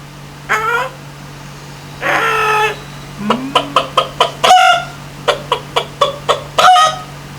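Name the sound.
voice imitating a rooster crowing with a puppet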